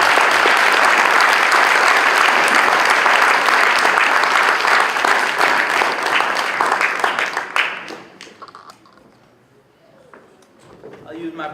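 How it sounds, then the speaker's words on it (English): Loud sustained audience applause at a social justice conference in a school, a dense wash of clapping that fades out after about eight seconds, leaving quieter room noise with some scattered claps. "let's give a round of applause for Dr."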